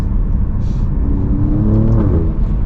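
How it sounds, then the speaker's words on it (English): A car engine rumbles loudly and close, its pitch rising and falling as it revs through downshifts, with a steady low growl throughout. "We'll get a couple downshifts."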